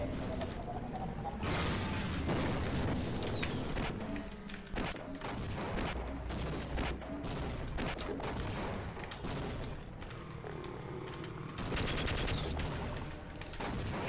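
Steady, dense gunfire in Half-Life, with rapid clattering shots and mechanical clanks running continuously under busy game noise and faint occasional talk.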